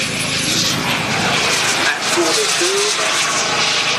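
A large model aeroplane flies at an outdoor model air show, its engine a steady airy drone with a whining tone, heard at a distance under a loudspeaker commentator's voice.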